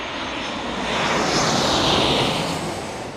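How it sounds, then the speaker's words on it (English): A Southwest Boeing 737-700 arrives at San Diego's airport with a loud, broad engine roar that swells toward a peak around the middle and eases slightly by the end, with no voices over it. "As we get another Southwest arriving here"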